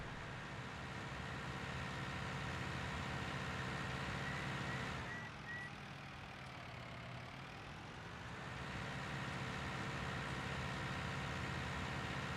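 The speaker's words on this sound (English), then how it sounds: "I like this little tractor" Small, medium-size tractor engine driving in Farming Simulator 19, a steady close engine drone that dips in level midway before returning to full strength, with no talking.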